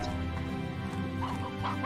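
Chickens cluck in the video game Slime Rancher, soft repeated clucks over a steady game soundscape with background music and ambient tones.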